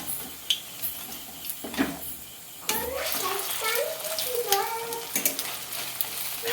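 Battered egg pieces fry in hot oil for egg chilli, a bubbling sizzle that swells suddenly partway through as more go in, with soft knocks and someone speaking over it.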